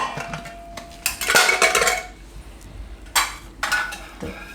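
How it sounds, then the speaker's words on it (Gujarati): Corn cobs are handled and dropped into a metal pressure cooker, giving a few loud clattering knocks and clinks of cobs against the pot in separate bursts, with quieter rustling between them. "તોડી નાખીશું મકાઈ, અને કુકરમાં લઈ લેવું 2 મકાઈને આ રીતે"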